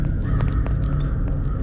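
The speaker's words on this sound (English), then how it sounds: "The cawing of crows off in the distance, totally normal." Crows cawing faintly in the distance in a video game set in an abandoned mall, a few harsh calls sitting under a steady, loud low ambient hum.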